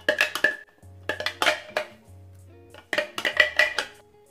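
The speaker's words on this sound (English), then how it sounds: "I'm gonna add the mango puree in there." Mango puree being spooned from a blender into a bowl for yogurt popsicles, heard as several bursts of clinking and scraping of utensils against dishes, close and fairly loud, with quiet gaps between.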